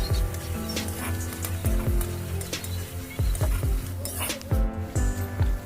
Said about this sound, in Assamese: তাৰপিছত দিছোঁ মই খুন্দি থোৱা ৰচুন আদাখিনি